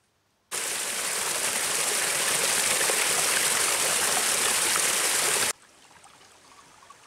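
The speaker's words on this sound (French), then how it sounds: "Le calme des lieux, important, n'est que rarement troublé par le son tumultueux des sources d'eau" Turbulent water from forest springs rushes in a steady, dense roar for about five seconds, starting and stopping abruptly against a quiet background.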